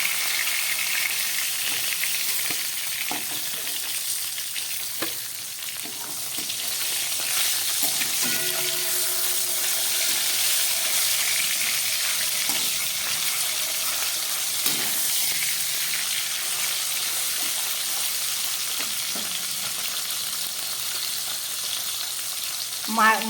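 Fish head, a piece of katla, frying in hot oil, giving a steady, close sizzle and crackle that runs throughout, with occasional soft clinks of a utensil and no talking.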